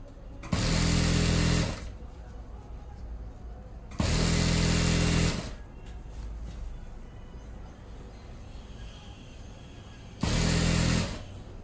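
Sewing machine stitching an elastic waistband onto trousers, three loud steady bursts of whirring stitching lasting about a second and a half each, separated by quieter pauses, close and without speech.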